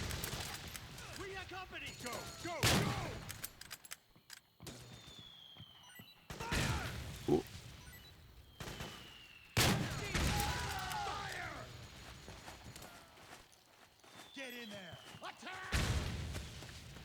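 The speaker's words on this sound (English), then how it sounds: "A little bit of sniping to clear up the front here." Sniper rifle shots ring out in Metal Gear Solid 4 amid a busy battlefield, several sharp loud cracks spaced a few seconds apart over ongoing gunfire, distant explosions and chatter.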